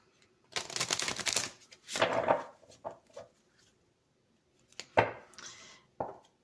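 Herbal medicine oracle cards handled for a draw, with close crisp shuffling and slapping of card stock in a few uneven bursts separated by quiet gaps, and no voice.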